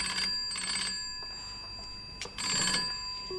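A telephone rings in two short bursts of a bright electronic trill with a pause between them, fairly faint, followed by a brief clatter.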